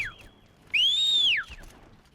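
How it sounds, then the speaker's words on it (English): A single sustained whistle for a mount in Horizon Zero Dawn, a bright tone that rises, holds and falls over under a second, clear and close above a quiet game background. "whistle for a mount."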